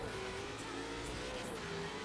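A police car engine in Forza Horizon 3 drones steadily as the car drives, a continuous loud, dense roar with faint tire noise and no pauses.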